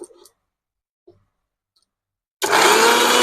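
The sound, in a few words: electric grinder blending mango pieces for mango essence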